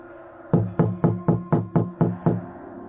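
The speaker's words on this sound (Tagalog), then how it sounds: "Kakatok ako sa pinto." Eight firm knocks on a door in a steady rhythm, close and clear, each a sharp wooden thud with a short decay, alone with no voices.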